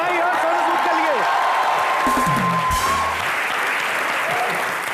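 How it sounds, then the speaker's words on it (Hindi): Loud studio audience applause with cheering fills a Comedy Nights With Kapil set, a dense steady roar of claps with brief vocal whoops and a sustained tone underneath. "एक बार जोरदार तालियां जॉनी भाई और सोनू सूद के लिए।"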